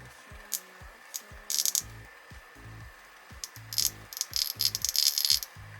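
The Sickin Volcano Shot beauty device runs while held against skin, giving off rhythmic low clicking pulses mixed with bursts of crackly, hissing spray-like sound, fairly faint and close, with no talking.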